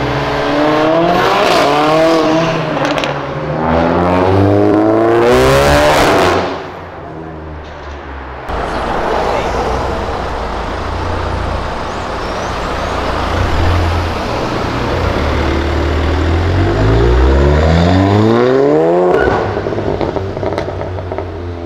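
A BMW 1M accelerates hard, its engine note climbing through rising sweeps, then a sustained roar of road and wind noise, with another loud pull building near the end, all close and continuous.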